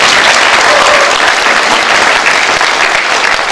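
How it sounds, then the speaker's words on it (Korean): Loud, sustained audience applause fills a hall at a Bareunmirae Party convention electing the party leader and supreme council members, a dense steady wash of clapping from a large crowd with no voices standing out. "여러분 다시 한번 큰 박수 부탁드리겠습니다"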